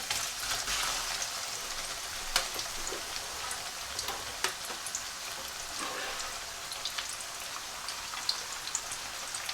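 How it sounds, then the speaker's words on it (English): Onions frying in hot oil in a pan for beef pasanda, a dense crackling hiss with scattered popping spatters, close and steady with no voices. "It's hot now with oil in it. So the first thing to go in is onions."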